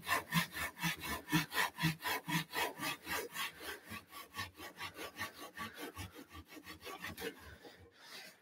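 A hand saw cuts through wood on the pull stroke, giving close, even, rhythmic rasping strokes about three per second for several seconds that slow and soften slightly toward the end.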